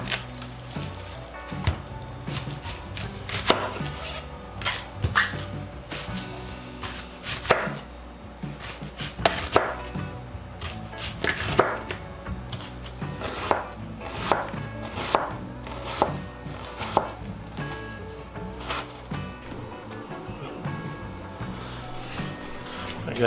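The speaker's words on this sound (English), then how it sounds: "I'm going to start just by chopping up this old onion here" A knife chops an old onion on a board for chili, with steady repeated close thuds in uneven bursts, fairly loud and with no talking over them.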